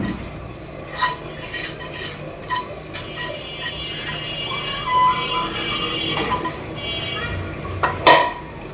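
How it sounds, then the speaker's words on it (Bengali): Black cumin seeds are ground on a shil-pata grinding stone, a rough scraping and rolling of stone on stone with scattered clicks and knocks, close by and moderately loud over a steady background hiss. "আগে কালো জিরাটা বেটে নিব ভালোভাবে।"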